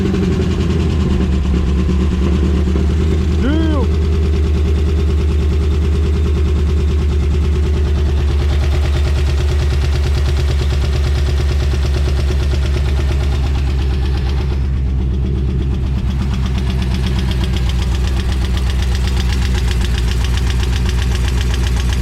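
An LS3 crate motor in Paul's Grand Sport runs at a steady idle, a close, continuous low rumble with an even mechanical rhythm that holds unchanged for the whole stretch.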